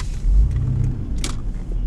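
Rongai buses rumbling past on a Kenyan road, a low continuous engine drone with a brief swell of heavier noise early on and a short hiss midway, fairly close.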